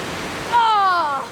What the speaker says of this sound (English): the waterfall is definitely bigger than it looks